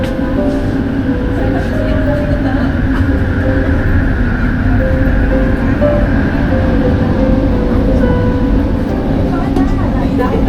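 Interior of a Kuala Lumpur LRT train: a steady, loud low rumble of the carriage running on the rails fills the whole stretch, with faint tonal hum from the motors and occasional voices underneath.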